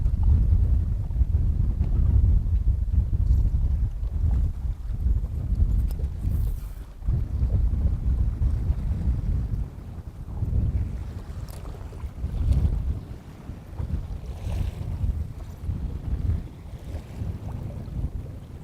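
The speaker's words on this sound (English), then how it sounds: "Now we got about the perfect amount of wind." Steady wind buffets the microphone on a boat drifting on Leech Lake while jigging, a continuous low rumble with gusty swells and occasional faint knocks, close and fairly loud throughout.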